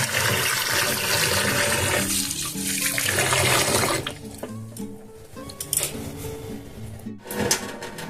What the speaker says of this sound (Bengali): তো চলুন ভালো করে চালটা ধুয়ে নিই